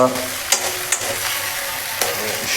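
Fermented dried fish (shidol) frying in a wok with a little salt, giving a steady broadband sizzle with a few sharp stirring clicks, close and moderately loud, no talk.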